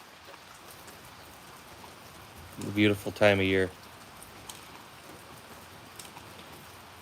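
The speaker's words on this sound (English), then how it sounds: "68 degrees and raining." Steady rain falls on a mild spring afternoon, a constant soft hiss across the whole stretch, with a voice talking briefly in the middle.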